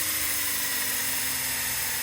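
A power drill with a 3/16 bit bores into plastic during a DIY barn door build, giving a loud, close, steady high whine that holds throughout.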